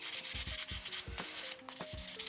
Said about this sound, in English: I'm just buffing the top of that